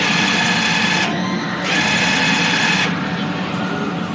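A DTF printer running a print-head nozzle test hums loudly and steadily with a mechanical whir, and its tone briefly dips and returns twice, close and continuous.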